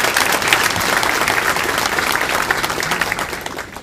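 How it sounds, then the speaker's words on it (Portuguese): Audience applause at an anti-corruption event in Brasília, a steady, loud wash of clapping from a crowd lasting throughout. "eu queria pedir uma salva de palmas pelo grande trabalho que faz o ministro José"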